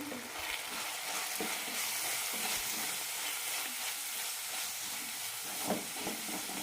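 Turmeric, chili powder and roasted coriander powder sauté in hot oil for a pappadam curry, giving a steady, close sizzling hiss with soft stirring scrapes throughout and no talk.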